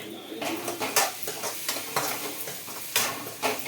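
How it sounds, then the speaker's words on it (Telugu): Turmeric fries in a pan, with a steady sizzle under repeated scraping strokes of a spoon stirring against the metal, close and fairly loud, with no talking. "ఇప్పుడు పసుపు పచ్చి వాసన పోయే వరకు ఫ్రై చేసుకుందామండి"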